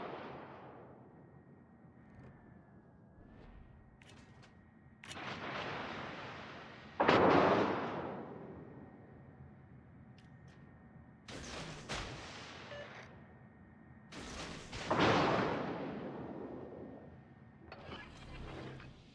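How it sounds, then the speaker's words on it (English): Warship artillery fire in the World of Warships video game, several heavy booming salvos spaced seconds apart over a steady background hum, with intermittent in-game voice callouts. "Concentrate fire on the enemy warship."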